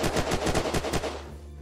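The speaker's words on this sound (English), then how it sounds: "Someone's just shot, the airdrop is right over here as well." Rapid bursts of automatic gunfire in the survival shooter Unturned, a quick rhythmic run of about eight close, loud shots that then trails off into a fading tail.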